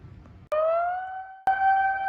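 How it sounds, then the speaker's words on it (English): Earthquake warning siren in Japan sounds alone, two loud, close tones that each start abruptly and hold a steady pitch with a slight rise, the second following about a second after the first. "now here we are with the alarm"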